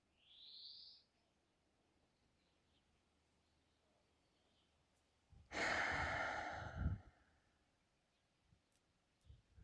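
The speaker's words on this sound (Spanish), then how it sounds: "simplemente observando cómo tu cuerpo respira" Calm, deep breathing during a guided body-awareness exercise: a soft breath near the start, then a long, fuller exhale-like rush of air midway, with quiet stillness around it.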